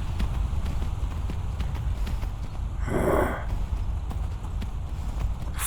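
Horse hooves clip-clop steadily through a Skyrim game scene, a continuous rhythmic patter over low rumbling ambience with a brief breathy swell midway.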